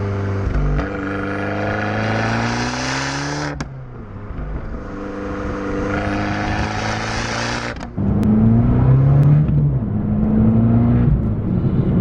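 An Abarth 595's turbocharged engine revs hard out of a corner in second gear through rising pulls to 1.5 boost, a brief lift between them, then another strong surge with a whistling whine, loud and close.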